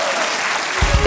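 Studio audience applause fills the short stretch as a dense, steady wash of many hands clapping, with a low voice or thump breaking in near the end.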